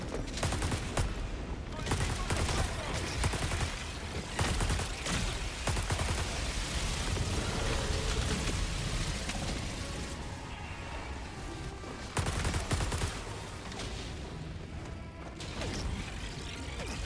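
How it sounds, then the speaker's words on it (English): A walking artillery barrage in the video game Helldivers, with heavy explosions rolling in one after another amid constant battle noise and scattered gunfire, under occasional talk. "Classic walking barrage right there."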